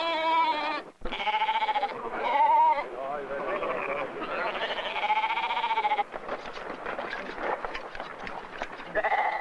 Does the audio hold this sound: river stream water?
no